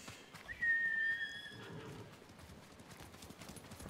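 Faint horse hooves clopping in a steady rhythm in the video game Ghost of Tsushima, under a soft whistle-like tone, with a quiet background and no talk.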